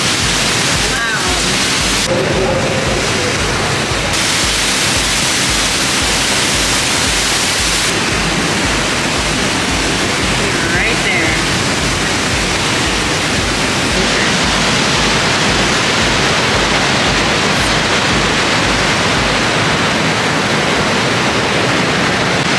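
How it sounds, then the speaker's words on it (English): Niagara Falls' Horseshoe Falls roaring from a vantage point behind the cascade, a loud, steady, dense broadband rush that fills the entire stretch without letup, with faint voices buried beneath it. "We're behind the falls. Literally so"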